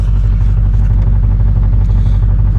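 A Duramax diesel pickup truck engine idles while warming up, a loud, steady low rumble with even clattering pulses, close and alone.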